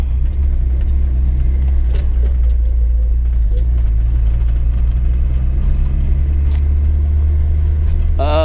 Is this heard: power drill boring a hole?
no